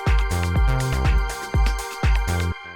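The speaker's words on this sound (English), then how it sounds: "It's just a percussion sound." Short, simple high-passed percussion hit from a house music track, repeating in a steady rhythm about every half second, loud and upfront over a sustained tonal bed with no voices.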